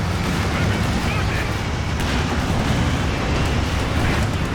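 Artillery strikes in the video game Company of Heroes 2 during a large 4v4 battle, a dense, continuous roar of booms and blasts at steady loudness with no quiet gaps.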